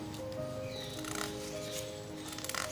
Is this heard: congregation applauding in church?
no